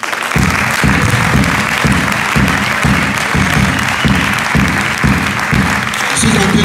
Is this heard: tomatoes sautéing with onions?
no